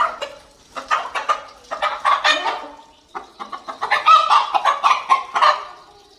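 A sick rooster clucks repeatedly in short bursts, close by, with a brief pause midway before the clucking resumes more insistently.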